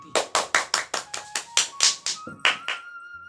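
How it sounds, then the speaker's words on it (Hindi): An audience claps together in a steady, rhythmic beat, about a dozen crisp unison claps at even intervals before stopping, with a faint sustained tone running underneath. "ताली भी बजाइए तो थोड़ा ठीक से बजाइए"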